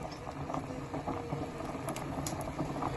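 Rice for sholeh zard, a saffron rice pudding, boils in a pot with cardamom pods, a steady close bubbling and popping patter that continues without talking.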